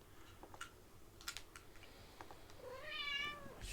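A cat meows as a rising, wavering cry near the end, preceded by scattered clicks of computer keyboard typing close by in a quiet room.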